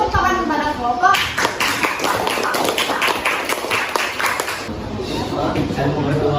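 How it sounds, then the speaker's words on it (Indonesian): Students in a classroom clap for a group, a burst of many hands that starts after a brief spoken line and continues for several seconds, close and fairly loud, then stops as the talking resumes. "Kalau gitu beri tepuk tangan kepada kelompok."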